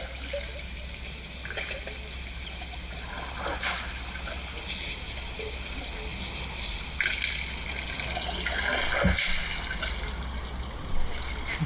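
Wild savanna elephants drinking at an open waterhole produce continuous trickling and light splashing, with occasional louder sucks and gushes toward the end, heard fairly close over a constant outdoor background.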